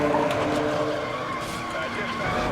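In Need for Speed: Most Wanted (2012), a race car slides sideways through a drift during the Harbor Run event, tires skidding under a roaring engine throughout, loud and close, with a voice talking over it.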